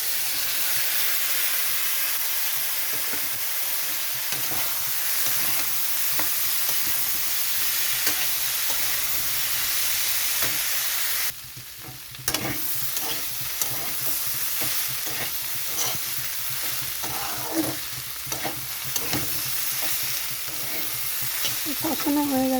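Kohlrabi frying in a pan with spices such as Kashmiri chilli powder, for a kohlrabi, prawn and potato curry, giving a steady, loud sizzle throughout with scraping stirs and a brief dip partway through.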